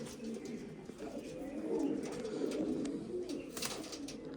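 Pigeons kept by a hobbyist flock, just released to fly, coo steadily at close range through the whole stretch, a low continuous murmur of several birds with faint brighter chirps on top.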